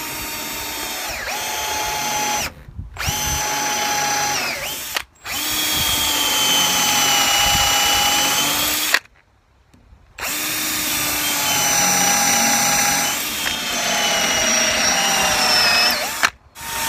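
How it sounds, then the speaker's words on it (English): A power drill pre-drills and countersinks holes in wood for deck planter shelves, whining loudly in several sustained bursts separated by short pauses. "Now I'll pre-drill and put a countersink in, and I'll put the fasteners in"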